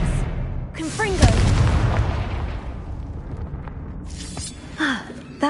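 Confringo blasting spell in Hogwarts Legacy, a single booming explosion with a rumbling tail, surrounded by whooshing spell effects and a voice casting.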